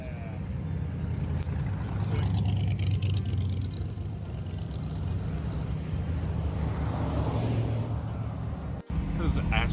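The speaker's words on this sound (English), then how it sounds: "there's a line of cars going into the event." A line of cars rolls into the Tualatin Cars and Coffee meet, a large car event, with a steady, close engine rumble that holds throughout and a brief dropout near the end.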